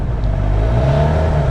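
Steady, loud engine and exhaust drone from a 2016 Suzuki GSX-R750 L6 sport motorcycle fitted with a short black aftermarket exhaust, a deep throaty rumble holding an even note throughout with no voices.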